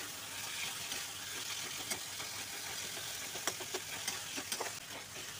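Fish with ridge gourd, tomato and potato fries in a pan, giving a soft, steady sizzle broken by occasional scraping stir strokes, fairly quiet and heard alone with no talk.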